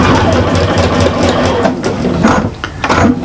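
A sewing machine stitches a bag with a short back stitch, its fast motor whirring steadily up close with a brief dip in pace partway through; no one speaks.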